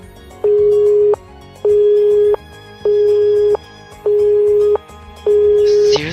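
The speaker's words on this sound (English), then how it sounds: "As the ruthless electronic buzz of the dropped call echoed, I stared at my cell phone" Busy tone of a dropped cell phone call: a loud, steady electronic beep that repeats five times in an even on-off rhythm.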